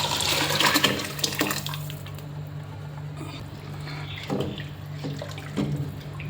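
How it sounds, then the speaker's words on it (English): Hot spiced water poured into a pot of drained soaked rice, masala and fried onions for kuska rice, a steady close splashing pour with a few brief gurgles and no talk. "Pour in the hot spice water."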